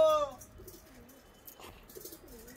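Pigeons on a rooftop coo in low warbling calls, scattered through a short stretch that opens with a brief higher call, with faint background bustle.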